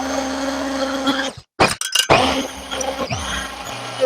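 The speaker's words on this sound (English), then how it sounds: "So we're gonna use the Immersion Blender" A motorized immersion blender whirs continuously while mixing soap, cutting out briefly with a few clunks before running again.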